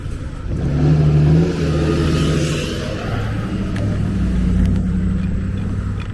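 Steady car traffic on an urban street in Philadelphia heading onto the I-95 northbound ramp, engines rumbling and revving as vehicles pass close by, a continuous loud drone with no talking.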